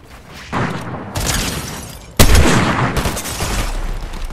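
Sniper rifle shots in the video game Fortnite: a few loud, sharp reports with one especially heavy crack midway, mixed into dense game noise with no talk.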